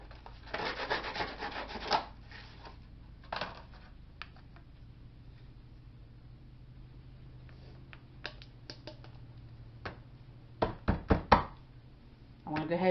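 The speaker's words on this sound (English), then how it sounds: "Sand her down." Hand sanding a burr off a pipe for a Halloween scarecrow build, a close scratchy rubbing burst at the start and another brief pass, followed by scattered knocks and taps of the pipe pieces.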